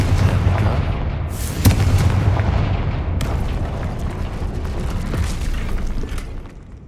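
Fiery Confringo spell blasts in Hogwarts Legacy: a dense, continuous roar of booming explosions with one sharp burst near the start, loud throughout before fading at the end.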